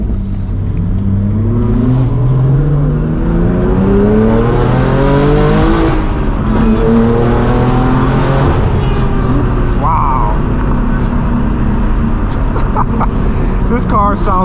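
A straight-piped BMW M4 G82 with a manual gearbox accelerates hard, its loud exhaust rising in pitch through several gear changes with crackles between shifts, while people talk over the roar.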